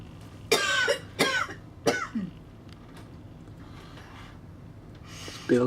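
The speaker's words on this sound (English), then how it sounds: "Mother started to laugh and she coughed." A woman coughs three sharp times after laughing, with a faint gasp at the end, heard close up over a low steady hum of boat traffic on a cruise stopover in Lisbon.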